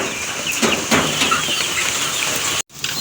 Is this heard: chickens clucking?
yes